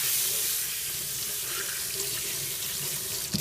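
Tap water running over hands at a sink, rinsing off cold-process coconut oil soap, a steady close splashing stream with a small knock near the end.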